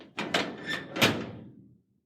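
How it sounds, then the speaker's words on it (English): A veranda door is pushed shut and latched: several quick wooden knocks and rattles build to a firm thud, with a brief ring fading into silence. "After latching the veranda door,"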